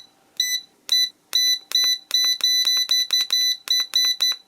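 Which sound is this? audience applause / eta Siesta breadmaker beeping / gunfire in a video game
eta Siesta breadmaker beeping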